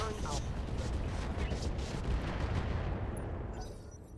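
Mech weapons firing at a target in the RogueTech game, a sustained dense rumble of booming gunfire and blasts lasting the whole stretch, loud and continuous before easing slightly near the end.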